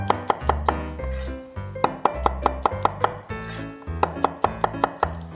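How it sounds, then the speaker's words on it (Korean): Knife slicing garlic into thin slices on a wooden cutting board while preparing seafood jjamppong, a quick run of crisp, sharp taps in an irregular rhythm, close and clear with no talking. "도마 소리 참 좋으네요"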